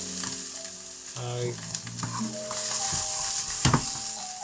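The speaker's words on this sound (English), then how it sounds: "was going to fry off the onions completely separately, but I want to incorporate that pork and ginger flavour that's in them onions now." Onions frying with pork and ginger in a pan, a steady crackling sizzle with occasional stirring clatter, close and continuous, with a brief word spoken at the start.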